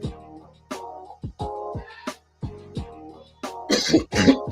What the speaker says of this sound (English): My cough, huh?